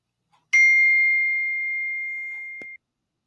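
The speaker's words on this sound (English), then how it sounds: "phone, I'm going to mute it today or something. It just keeps dinging." A mobile phone notification gives a single loud, close ding that rings out and fades for about two seconds before stopping abruptly, in an otherwise silent room.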